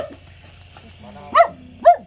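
Dogs bark twice in quick succession, sharp and fairly close, over a quiet backdrop with faint murmured voices, during a charity aid handout to poor households in Vietnam amid the pandemic.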